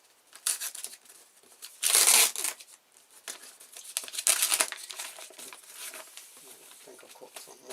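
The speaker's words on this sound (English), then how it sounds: "I've got some scissors here, and I'm just going to use" Scissors cutting and tearing through plastic packaging around a Sannah 420 stairlift motor, with bursts of crinkling and ripping close by and quieter snipping between them.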